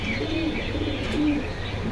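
Pigeons cooing among the cages of a pigeon stall at Jinjira Bazar market, soft repeated low coos over a steady murmur of market background noise, with no talk.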